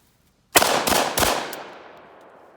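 A Russian VEPR 12 gauge shotgun fires three loud, close shots in quick succession, followed by a fourth fainter crack, each blast ringing out with a long decaying echo.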